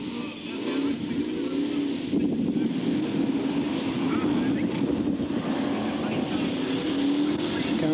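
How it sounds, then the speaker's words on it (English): Stock cars racing on a wet, greasy oval track in 1994, engines droning steadily and loudly throughout with heavy wind buffeting the microphone. "Cars going off everywhere."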